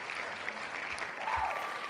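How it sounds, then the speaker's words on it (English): Crowd applause during a live fantasy sports dynasty trade show, a soft, continuous patter of many hands clapping, faint and distant with a low background murmur. "He's clapping just for that."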